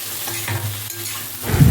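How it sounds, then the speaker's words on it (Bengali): Potatoes and bitter gourd sauté with radhuni and chili paste for a Bengali uchche chochori, a close sizzle with stirring scrapes that grows louder at the end. "আরও কিছুক্ষণ কষিয়ে 5-6 মিনিট মতো ঢেকে দিতে হবে।"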